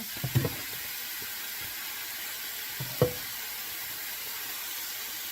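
Tomato sauce sits in a cast iron skillet for lasagna, a faint steady sizzle and hiss with a couple of soft spoon knocks, close and without talk.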